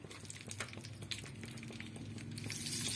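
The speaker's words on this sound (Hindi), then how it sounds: "अब हम अपनी ये जो स्लिट की हुई हमारी हरी मिर्चाएं इसको हम फ्राई करके निकालेंगे" Slit green chillies frying in hot oil, a continuous close sizzle with soft bubbling and crackle that swells louder toward the end.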